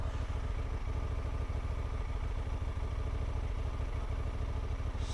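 A motorcycle engine runs continuously up close before a ride on rough dirt, a steady low rumbling idle with rhythmic mechanical clatter and no talk.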